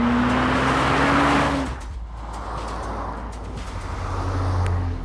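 A Porsche 917 race car on a shakedown at Laguna Seca roars past loud and close, fading off, then its engine note rises again in the distance.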